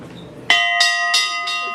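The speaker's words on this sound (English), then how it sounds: "I will just ask you to ring the bell for me" A bell in the Guinness Storehouse tasting room in Dublin rings with a sharp strike, its bright sustained tone followed by several quick repeat strokes that ring on and decay, heard alone without talk.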